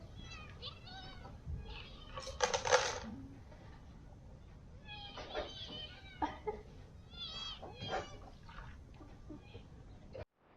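Several small kittens meow repeatedly in high, thin cries, overlapping at times, with rustling and handling noises close by and a few louder bursts.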